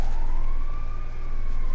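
An ambulance siren in GTA 5 wails steadily with a smooth rising and falling tone over a low engine rumble, loud and continuous throughout.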